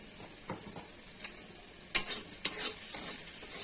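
Pumpkin, potato and bitter gourd stir-fry in a pan, a soft steady sizzle with a few sharp scrapes and knocks of the spatula against the pan.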